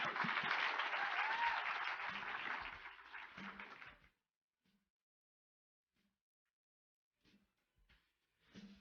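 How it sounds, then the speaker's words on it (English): A crowd applauds loudly and steadily for about four seconds, then the clapping stops and the room goes mostly quiet, with a few scattered faint knocks. "So let's give them a big round of applause."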